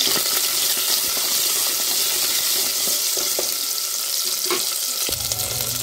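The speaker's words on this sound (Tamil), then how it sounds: "போடுறேன் கொஞ்சம் கருகாப்பிலை" Curry leaves, cumin, fenugreek, a dried chilli and whole shallots sputtering in hot oil for a pumpkin sambar tempering, a loud close crackling sizzle with a few sharp pops and clinks.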